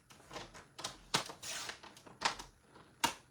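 Paper being cut with a paper trimmer while crafting a Stampin' Up! card project: a few faint, short sliding and clicking strokes spaced irregularly in a quiet room.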